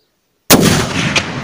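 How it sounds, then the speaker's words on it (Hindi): A single loud rifle shot from a .30-06 loaded with 150-grain PPU rounds and topped with a Nikon P223 3x32 scope, fired outdoors at a 200-metre target: a sharp crack after silence, then a long rolling echo that fades. "150 grain 3006 rifle, scope Nikon P223 3x32, magnification only 3"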